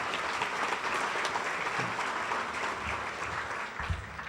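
Audience at a small business awards ceremony applauding, a dense, steady patter of many clapping hands filling the room, moderately loud and sustained without speech.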